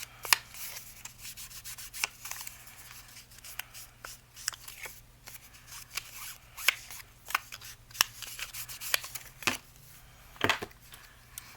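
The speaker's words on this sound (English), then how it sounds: "going to cut off a little bit of this one, about a half an inch again." Scissors snip journal paper in a quiet room, giving a series of short, sharp crisp cuts at an irregular pace over a faint background hum.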